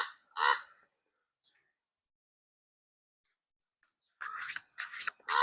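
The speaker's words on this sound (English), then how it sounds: "The crows are super loud today." Harsh crow caws, a couple at the start, then a quiet gap, followed by a burst of several loud caws in quick succession.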